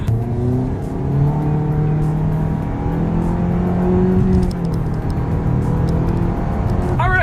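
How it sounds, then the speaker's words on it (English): A 2020 Mitsubishi Eclipse Cross with a CVT accelerates, its engine note holding a steady, continuous drone that rises smoothly without gear-change breaks, loud and close throughout, with a brief clatter at the very end. "let's do a quick little acceleration here in the new 2020 Mitsubishi Eclipse Cross"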